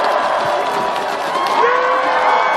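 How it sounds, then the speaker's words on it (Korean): A large crowd at an outdoor Democratic Party presidential campaign rally in Incheon, South Korea, cheers and applauds loudly and continuously, a dense roar of voices and clapping that holds steady throughout. "큰 박수 부탁드리겠습니다."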